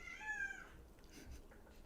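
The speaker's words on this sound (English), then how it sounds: "That's my kitten. Do you hear her?" A kitten meows once, faint and fairly close, over a soft background hiss in a quiet indoor room.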